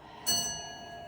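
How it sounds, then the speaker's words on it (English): A clock chimes at six o'clock, a single bright metallic strike ringing and slowly decaying over a quiet room, with no voices. "You'll hear 6 chimes because it's 6 o'clock."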